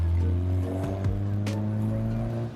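A Mazda MX-5 Miata NB car engine rumbles close by with a deep, steady drone that rises and falls slightly.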